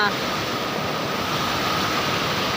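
Water from a forest waterfall spills and flows over rocks, making a continuous, fairly loud rushing hiss with no breaks.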